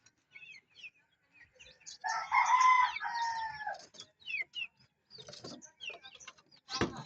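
A rooster crows loudly in one long drawn-out call, with scattered clucks and chirps from other fowl, including a hen, before and after.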